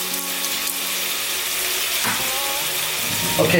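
Cinnamon stick, cloves and green cardamom pods fry in a hot pan on high heat while preparing machboos lamb rice, giving a steady close hiss and sizzle that runs throughout, with a brief spoken word near the start.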